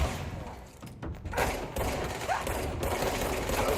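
Gunfire in the video game Control during a Gamescom co-stream, a dense rattle of rapid shots and mechanical clatter over a steady background bed, fairly loud throughout, with no talking.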